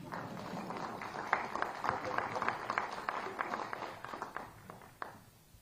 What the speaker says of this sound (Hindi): उड़ीसा के लोग थोड़ा ताली बजा दें।